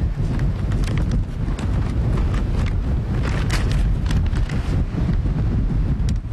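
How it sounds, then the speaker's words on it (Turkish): Loud, roaring wind buffeting the microphone continuously, with gusty rumbling and no voices. "Evet sevgili, dehşet bir rüzgar var."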